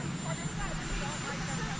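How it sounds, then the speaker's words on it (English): A helicopter roars steadily outdoors at a presidential departure, a dense continuous engine and rotor wash that masks the surroundings while people talk over it. "you have a helicopter that's raging back there"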